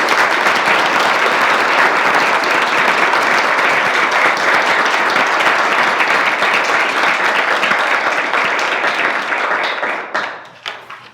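Sustained audience applause welcoming NAACP president Cornell William Brooks to a lecture, a dense, loud wash of clapping that holds steady for about ten seconds before thinning and fading out.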